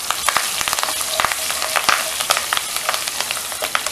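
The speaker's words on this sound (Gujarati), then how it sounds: "અને બધા ખડા મસાલાને આપણે સરસ મિક્સ કરી લઈશું." Whole spices crackle loudly in hot oil for a Gujarati lima bean curry: dried red chili, bay leaves, curry leaves, star anise, peppercorns and cloves. A spoon clicks repeatedly as they are stirred through a brisk, spitting sizzle.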